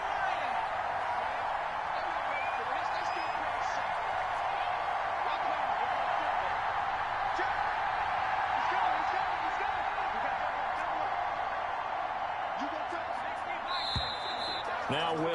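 Steady roar of a large stadium crowd in a PS4 American football video game, a dense continuous wash of noise with a short whistle-like tone near the end.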